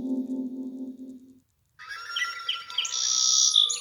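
A sparrow chirps in a quick run of high, bright tweets that grow steadier and louder, following a brief low tone and a short silence.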